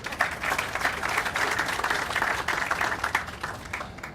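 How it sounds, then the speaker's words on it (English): Audience applause at a city groundbreaking ceremony for a wastewater treatment plant digester project, a steady wash of clapping from a modest crowd lasting a few seconds without pause. "I would ask for a lot of applause"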